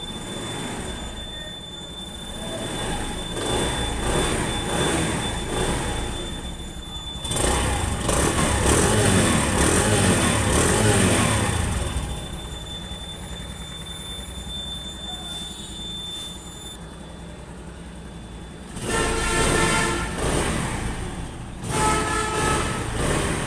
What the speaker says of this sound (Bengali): বাইকটির সাউন্ড কোয়ালিটি আমরা টেনে এবং ছেড়ে দিয়ে আপনাদেরকে দেখালাম।